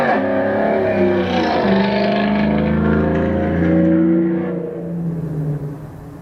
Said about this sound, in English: it's a really loud car.